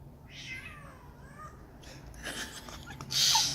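A bird somewhere close by gives meowing, cat-like calls, a few drawn-out mews rising and falling over quiet outdoor background, ending with a louder, brighter burst of sound.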